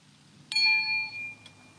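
A single small bell is struck once and rings out clearly with a bright, sustained tone that fades over about a second, followed by a faint second tap, heard alone in a quiet room with low background hum.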